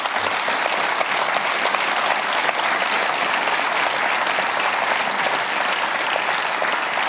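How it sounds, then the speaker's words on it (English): Studio audience at a televised budget Q&A program bursts into loud, sustained applause, a dense even roar of many hands that lasts for several seconds without a pause. "I was just about to say give him a huge round of applause, but you did that spontaneously"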